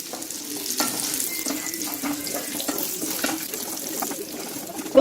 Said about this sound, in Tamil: நம்ம இப்போ ஃப்ரை பண்ணிட்டோம், டீப் ஃப்ரை பண்ணிட்டோம்